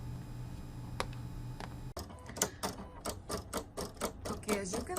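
A Silhouette cutting machine works through rhinestone sticky flock: after a quiet hum with a couple of clicks, a rapid series of sharp ticking, clattering strokes from the blade carriage starts and continues close by.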